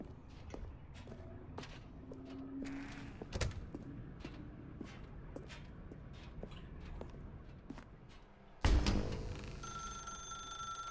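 A telephone ringing in the video game The Stanley Parable, with rhythmic bell-like rings over footsteps in an interior room, followed by a louder burst and sustained tones near the end.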